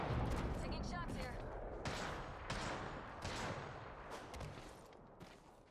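Dense gunfire rattles on continuously in Apex Legends, with overlapping bursts and shots layered under game noise. A voice is talking over it.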